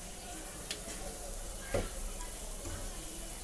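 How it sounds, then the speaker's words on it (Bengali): Turmeric and chili powder stirred and frying in a pan for prawn bhuna, a faint steady sizzle with a few soft scrapes of a spoon. "আমি আমার মশলাটাকে একসাথে নেড়েচেড়ে এই তো ভেজে নিচ্ছি"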